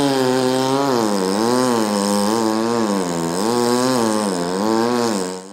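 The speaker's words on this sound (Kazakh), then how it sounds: "Мұнда Strong Service серіктестігінің мамандары ескірген апаттық деп танылған ағаштарды кесуде." A chainsaw cuts down old, hazardous trees along Buketov Street in a city, its engine droning loud and close without a break, rising and falling in steady revving waves.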